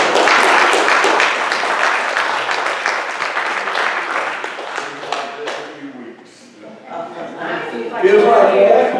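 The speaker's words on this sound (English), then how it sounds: "I'm going to ask you to give an applause" A church congregation applauding, dense clapping that fills the room loudly at first and slowly thins out, giving way to someone speaking toward the end.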